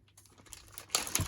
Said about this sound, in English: sorry about the crackling of the paper, plastic.